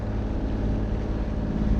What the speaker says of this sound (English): I have a diesel engine.